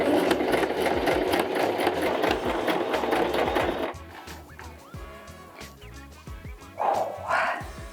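Sewing machine stitching fabric without pins, a rapid loud mechanical whir for several seconds that stops abruptly, followed by quieter handling noises and a short burst of running again.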